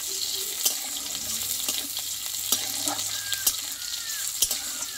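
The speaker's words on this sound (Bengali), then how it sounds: "দেখো রসুন পেঁয়াজটা একটু ভালোভাবে একটু লালচে করে ভেজে নেবো বন্ধুরা" Garlic and onion fry in a pan for a drumstick-leaf and eggplant dish, giving a soft, steady sizzle with occasional sharper clinks and pops of stirring at close range.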